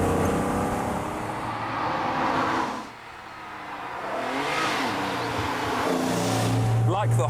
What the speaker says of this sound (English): But with a car that looks and sounds like this, who cares?